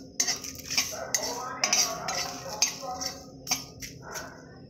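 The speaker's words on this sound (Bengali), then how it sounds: "কালো জিরা আর তেজপাতা দেব কড়াতে। দিয়ে হালকা করে ভেজে নেব।" Dry black cumin and bay leaves being stirred in a kadai, with a spoon tapping and scraping against the metal pan in scattered clinks and short scrapes at close range.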